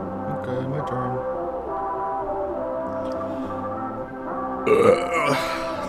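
A single drawn-out burp with a low, droning tone lasts several seconds and ends in a rougher, breathier burst.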